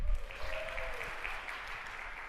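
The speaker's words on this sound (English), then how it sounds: "Round of applause." Audience applause at a nonprofit funding summit session, a steady wash of clapping from a seated crowd that holds evenly throughout, with no voices over it.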